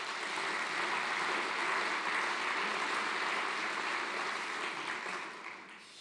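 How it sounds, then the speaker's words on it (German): A seated audience at an anniversary celebration of a research association bursts into sustained applause, a dense, steady wash of clapping that holds evenly and then fades toward the end. "Das ist natürlich auch, finde ich, ein Glückwunsch und einen Applaus wert."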